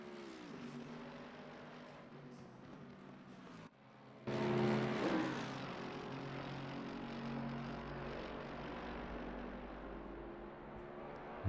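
Race car engines from a racing video game whine and drone continuously, dropping briefly before a louder surge as cars pass, with no talking.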